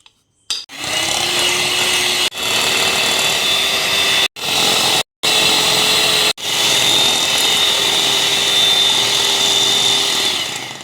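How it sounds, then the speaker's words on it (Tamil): An electric hand beater whirs steadily, beating butter and sugar for a Christmas cake, with a few brief stops and restarts before running on continuously, close and loud. "ஓகே, பட்டரும் சுகரும் பீட் பண்ணியிருக்கு."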